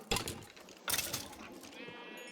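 Sheep bleating in the video game Animal Craft: a loud bleat near the start, a second bleat about a second later, then a thinner, fading cry.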